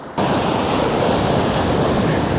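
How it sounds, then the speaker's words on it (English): A big ocean wave crashes over a seascape photography setup on the shore, its loud, sustained roar of surf and spray surging in suddenly and filling the whole moment with wind buffeting the microphone. "Oh my God, big wave."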